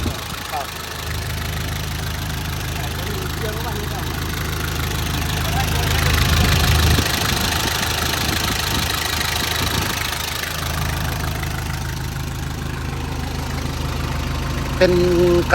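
A Nissan Big-M pickup engine idling steadily for a sustained stretch, a continuous mid-low rumble that swells slightly partway through, with someone talking over it.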